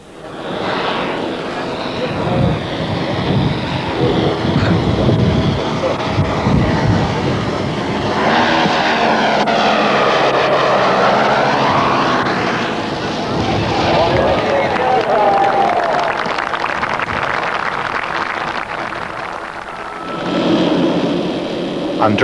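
Model jet aircraft with a gas turbine engine taxiing on its own at a 1995 model jet show, giving a steady loud whine and roar that holds for the whole stretch, with crowd talk and commentary mixed underneath.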